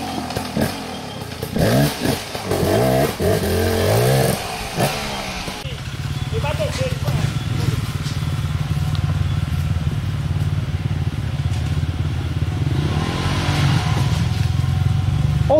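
An enduro motorcycle engine runs at an off-road trail event. Loud revving bursts and clatter come first under voices, then the engine settles into a steady low rumble close by.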